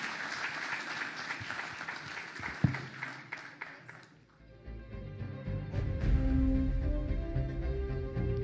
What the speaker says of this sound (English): A big hand for Mr. Gadkari, gentlemen.